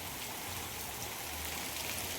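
Heavy rain falls in Porbandar under a dark sky, a constant broadband hiss of drops on surfaces, unbroken and close, with a faint low rumble beneath.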